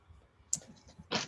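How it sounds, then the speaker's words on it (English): A few sharp, typing-like clicks and taps come from an animal indoors, close and fairly quiet, in two small bursts with a louder final cluster and no talking. "it sounds like he's typing us messages"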